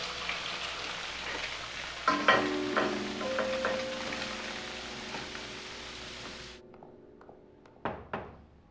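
Eggs fry in a pan with a steady hiss of oil. A spatula knocks and scrapes partway through before the sizzle cuts off, followed by a couple of kitchen clunks, all close and without speech.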